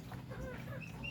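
Chicks or hens give brief clucking calls over a steady background hum, a short burst of soft chirpy fowl sounds.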